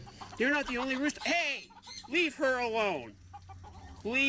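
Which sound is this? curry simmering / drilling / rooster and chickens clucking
rooster and chickens clucking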